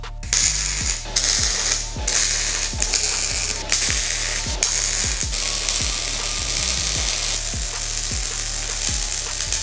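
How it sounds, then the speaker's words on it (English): MIG welding on a steel plate, the torch moved slowly along the seam, gives a steady loud crackling hiss with a regular ticking pulse running through it and no voices. "Now we're still just holding the nozzle steady and we're just slowly moving it throughout the weld."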